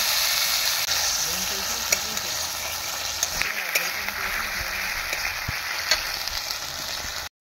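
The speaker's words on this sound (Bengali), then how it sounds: "হালকা একটু জল দিয়ে দিচ্ছি, মশলাটা কষিয়ে নেবো জল দিয়ে" Spice masala being sautéed in a pan with a little water added, a steady close hiss and sizzle with occasional scraping stirs and light clinks.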